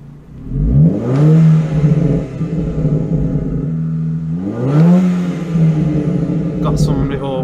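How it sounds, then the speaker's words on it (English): A Mk2 Seat Leon FR with a 3-inch downpipe revs up twice with a deep throaty roar, each rev climbing then holding before easing off, loud and close with a gruff rumble. "Let me give it some revs."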